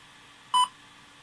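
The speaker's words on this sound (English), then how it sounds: "I heard a beep." A single short electronic beep from a DJI Mavic Air drone remote controller as its rear function button is held, a clean tone lasting about a tenth of a second over a quiet background.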